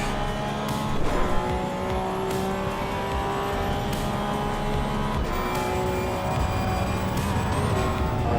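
A GT3 Cup race car engine in a racing video game roars and revs through gear changes, high-pitched and continuous, with a brief tire squeal early on; no one speaks.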